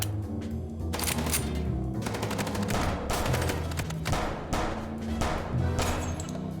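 Rapid bursts of gunfire during a car chase in the video game Chicken Police, loud clustered volleys of shots separated by brief pauses, over a low steady rumble.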